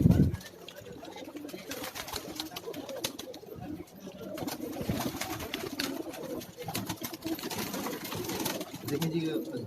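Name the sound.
pigeon cooing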